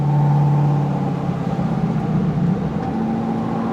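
An LS V8-swapped BMW E46 drift car idles with a deep, loud, steady engine drone, rising slightly in pitch as it begins to move off in first gear, heard close with no voices.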